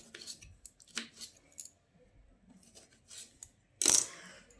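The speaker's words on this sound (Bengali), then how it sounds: "তারপর টমেটোটাকে একটু এরকম চৌকো করে কেটে নিচ্ছি।" Knife cutting a tomato into square pieces, several sharp, separate clicks of the blade on the board with a louder chop near the end, close and fairly quiet, with no talk.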